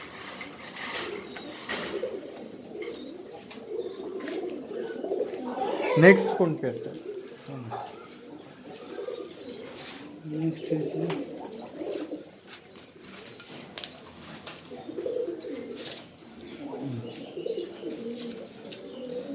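Caged pigeons coo in low, repeated rolling calls throughout, close by and steady, while people talk over them and an occasional clank sounds from the cages.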